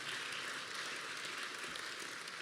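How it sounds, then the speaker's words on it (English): Concert audience applause in a hall, dense steady clapping from many hands throughout, moderately distant and even. "Look at that. A lot of clapping going"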